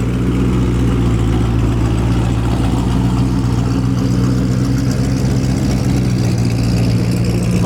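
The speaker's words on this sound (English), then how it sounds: "this guy's been making a little bit of noise here in the twin turbo Mustang" A loud, modified twin turbo Ford Mustang making around 1,000 horsepower rumbles and revs at a car meet, a heavy, steady engine drone close by throughout.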